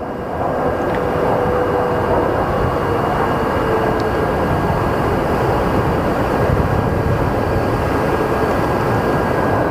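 An airliner arriving at Phoenix Sky Harbor airport, a loud, continuous jet engine rumble and roar with a faint steady whine above it, unbroken for the whole stretch with no talk.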